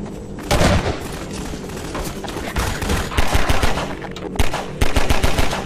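Gunfire in Half-Life 2 from a shotgun: loud, close blasts, some singly and some in rapid bursts, with a near-continuous clatter of combat noise between them.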